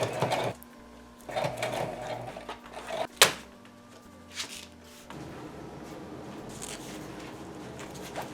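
A sewing machine stitches fabric for a Mandalorian costume in short, quiet bursts of whirring. A sharp clunk and some handling clatter break in midway, all faint and close by in a quiet workshop.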